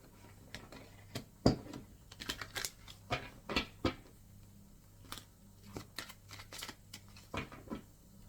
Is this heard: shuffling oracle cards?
yes